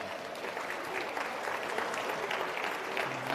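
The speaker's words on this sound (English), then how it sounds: "Give yourselves a round of applause." Audience at an in-person corporate event applauding, a steady wash of many hands clapping at moderate distance, fairly faint and sustained throughout with no talk over it.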